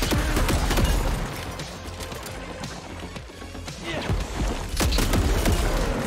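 A shotgun blasting repeatedly in Shadow Warrior 3, a run of loud booming shots mixed with chaotic combat crashes and effects, dense and close.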